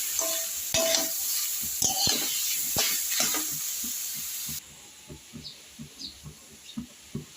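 Boiled kohlrabi is stirred with fried prawns in a pan: a loud sizzle under repeated scraping strokes at first, then quieter, evenly spaced stirring scrapes.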